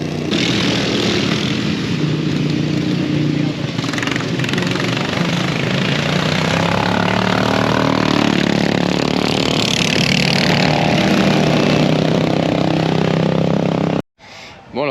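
Modified tractors racing at the Gilgandra Show, a loud, rough engine drone roaring close by for most of the stretch, swelling as machines pass, then cutting off abruptly near the end.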